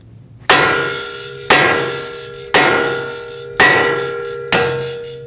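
Five sharp metallic hammer strikes on the steering knuckle of a Toyota Corolla, freeing the tie rod stud, at a steady one-per-second pace, each ringing briefly, close and loud with no talking.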